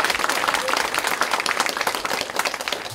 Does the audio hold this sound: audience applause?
yes